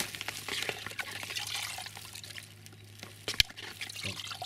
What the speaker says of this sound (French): donc je vais rajouter un petit peu d'eau